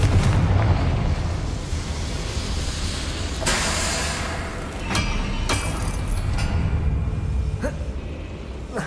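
A Confringo fire spell blasts out in the Hogwarts Legacy video game, a loud sustained roaring burst with crackling bursts layered over a dense rumbling game soundscape, no talk.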